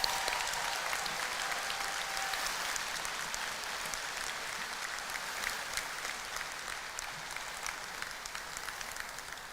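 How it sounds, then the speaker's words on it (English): Sustained applause from a large audience greets the BS in Pharmaceutical Science graduates at a 2023 College of Pharmacy graduation ceremony, a steady dense clatter of clapping filling the hall throughout. "Let's everyone give a big round of applause for the BS in Pharmaceutical Science."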